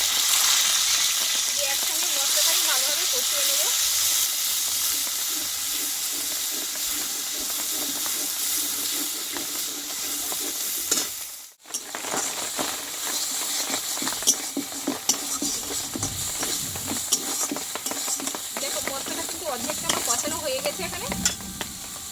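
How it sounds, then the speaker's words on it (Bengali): Ground spice paste, tomato, salt and turmeric frying with potato and pointed gourd in oil for a Bengali alu potol dum, with a steady loud sizzle and repeated scraping stirs, a brief break midway, no talking. "আবার আমি একসাই কিছুক্ষণ কষিয়ে নেব"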